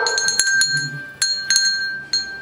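A bright notification bell chimes several times in quick clusters, clear ringing tones with a steady high hum beneath and a short faint voice-like murmur at the start.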